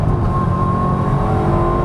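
Rear-wheel-drive Maserati with a limited-slip differential, its engine holding a steady loud drone and a rising whine as it pulls through the gears, with no voice over it.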